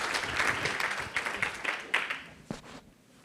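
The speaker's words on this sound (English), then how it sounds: "I want you all to give this great panel a round of applause" Applause from an audience for a panel at a conference event, a moderate round of clapping that thins into a few separate claps before dying away.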